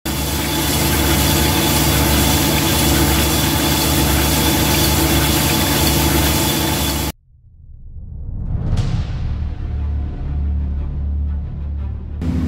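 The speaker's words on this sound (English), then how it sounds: "use my Sun and Diamond honing head to hone the cylinder to a nominal size" An engine cylinder is honed with a Sunnen diamond honing head, a loud steady grinding machine drone that suddenly stops, then surges back up, with a sharp ringing hit soon after the restart.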